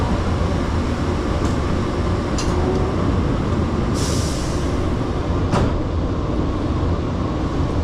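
Airport terminal people-mover train running steadily, a continuous rumble and rattle of the moving car with brief hissing squeals from the rails, heard from inside.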